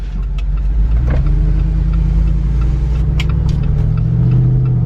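A 2021 Jeep Wrangler Rubicon 392 with a V8 HEMI engine rumbles loudly and steadily, heard from inside while it waits at a traffic light, a deep continuous drone with a slight rise in pitch near the end.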